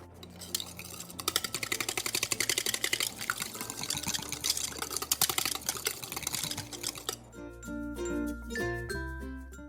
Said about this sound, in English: Now blend in the milk and the vanilla.